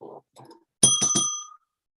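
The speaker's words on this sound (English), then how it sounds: "You get the bell for that one." A bright bell sound effect, like a bicycle bell, rings in a quick burst of three strikes with a lingering tone, following a few brief spoken syllables.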